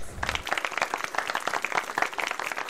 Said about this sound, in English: everybody claps for Jack